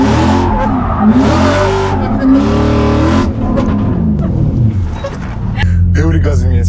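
A car accelerates and revs hard while drifting, its engine note climbing and falling in loud sweeps with bursts of tire noise. Voices talk over the engine throughout.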